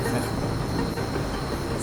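An electric Pink Line monorail train runs past during system testing, a loud continuous rumble with rolling mechanical noise and a faint hiss, steady throughout the short stretch.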